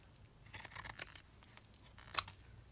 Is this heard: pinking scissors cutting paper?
yes